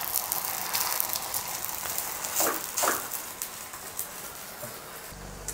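A parotta laid on a hot oiled dosa pan (tawa), giving a steady close hiss and crackle of frying oil with a few brief pops and faint clatter.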